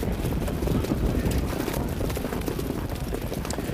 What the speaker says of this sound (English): And they're off in the Hamiltonian as Marseille and Okie Svanstead flashing speed.